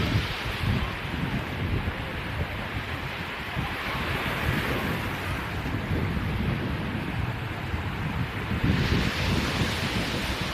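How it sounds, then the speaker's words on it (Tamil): Small sea waves at Velankanni beach wash in with a continuous close surf roar, blended with steady wind buffeting the microphone and a slightly stronger surge near the end. "இந்த பீச் வந்து பார்த்திங்கன்னா அலைகள்லாம் ரொம்பவே கம்மியாக தான் இருக்குது."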